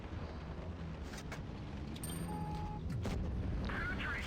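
A tank cannon shot strikes the weak side of an AMX during a World of Tanks Blitz battle, with loud booming game-fire rumble running steadily under continuous battle noise and a brief rising tone.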